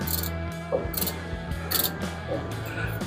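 A ratchet socket wrench works on a Plymouth Duster's 8.8 axle, giving several short bursts of rapid clicking at an uneven pace, close and clear with no talking.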